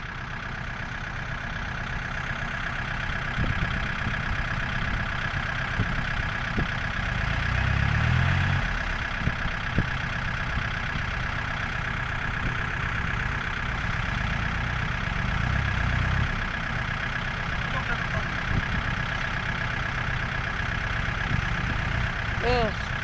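A vehicle engine runs steadily while reversing out of mud, a mid-to-low idling rumble with occasional revs, and people talk over it throughout.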